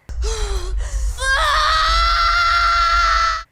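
A woman in the Eetha film teaser lets out loud, sustained screams, one short cry followed by a long, piercing shriek held at full strength over a low rumbling backdrop.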